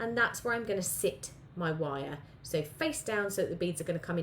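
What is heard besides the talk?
None of the usual background noises is heard.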